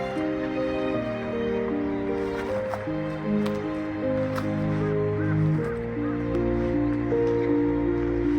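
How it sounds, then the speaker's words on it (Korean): A magpie perched atop a prison roof gives repeated harsh, crow-like calls over a soft melodic background. "감옥 꼭대기에 까치가 한 마리 앉아 있습니다."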